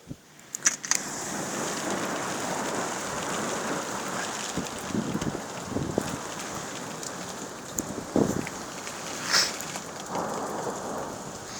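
A violent thunderstorm in Carpentras, Vaucluse, brings steady heavy rain drumming on surfaces with gusting wind, broken by several loud cracks and rumbles of nearby thunder.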